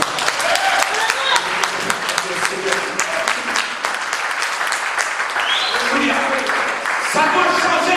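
A church congregation applauds in acclaim of the Lord, with loud sustained clapping filling the space throughout, while voices call and cheer beneath the applause.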